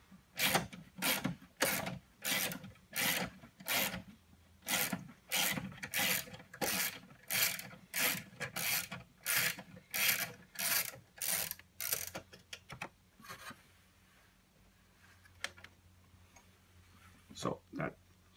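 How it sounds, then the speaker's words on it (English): A 13 mm ratchet loosens the battery hold-down bolt on a 2012 Hyundai Santa Fe, giving a long, steady series of quick, close metallic clicks that stop near the end, followed by a few faint clanks. "we then take our 13 millimeter and we're going to remove that hold down"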